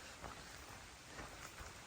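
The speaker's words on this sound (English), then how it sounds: "Starting to rain." Steady, soft rain begins falling along a hiking trail, a faint, even patter of drops on the surface throughout with no voices.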